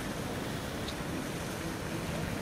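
A waterfall gives a steady, even rushing hiss that holds unbroken throughout, heard at a moderate distance with no voices.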